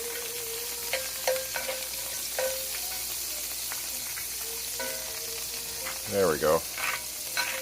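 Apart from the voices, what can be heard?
margarine-like spread melting and sizzling in a pan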